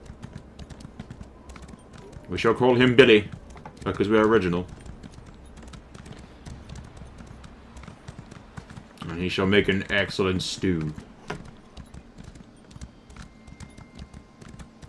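Horse hooves clip-clopping at a steady run in the fantasy game Elder Scrolls Online, a continuous rhythmic patter running beneath the talk of someone speaking in two short bursts.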